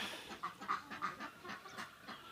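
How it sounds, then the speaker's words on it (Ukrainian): A goose heard up close outdoors while laying an egg, giving a string of short, soft honking calls, roughly one every few tenths of a second, with nobody speaking. "Ось гусочка несеться."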